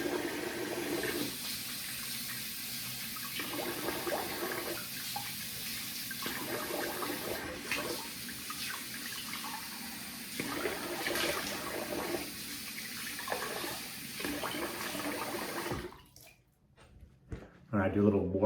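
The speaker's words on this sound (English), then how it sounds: "So let me rinse the face here." Tap water runs steadily into a sink while the face is rinsed during a wet shave routine, a continuous hiss with brief splashing changes, then cutting off near the end.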